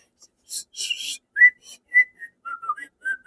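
A person whistles a short, broken run of high, breathy notes, close and fairly loud, mimicking a piccolo flute tune with irregular rhythm and short gaps.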